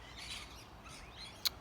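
Faint Australian native birds chirp outdoors in short, distant bursts of high tweets over a quiet background, followed by one sharp brief click near the end.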